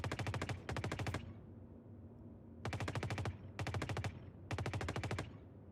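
Automatic gunfire in the space game Star Citizen, four loud close bursts of rapid rattling shots separated by short pauses, each burst about half a second to a second long.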